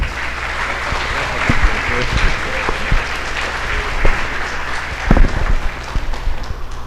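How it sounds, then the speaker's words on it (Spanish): Audience applause welcoming a doctor to the podium at a pediatric medical conference, a steady wash of clapping with a few louder claps near the end. "con ustedes el doctor Mauricio Romero para que lo animemos con un aplauso"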